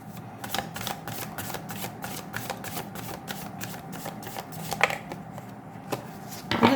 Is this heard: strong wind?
no